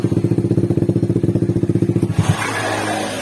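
A motorcycle fitted with an anti-theft alarm starts on the electric starter button, a rapid even cranking chug that catches and settles into a steady idle, loud and close.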